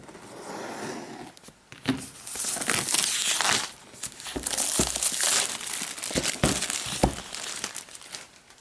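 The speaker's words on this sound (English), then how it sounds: "let's go ahead and crack into this plastic here" Plastic wrap on the packaging of a 2013 Apple MacBook Air is torn open and peeled away, giving close, loud crinkling and tearing bursts with sharp crackles, continuing irregularly for several seconds without speech.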